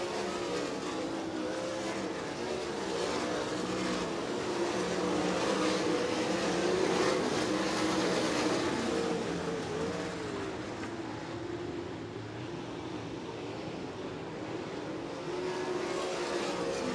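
Sprint cars race on a track, their engines making a continuous, droning roar that swells and eases slightly as the cars lap together.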